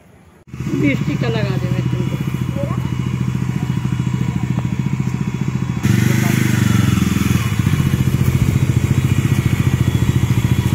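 A new green Bajaj Dominar 400 motorcycle starts up with a thump and settles into a steady, close, throbbing idle that grows louder midway, while people talk briefly over it.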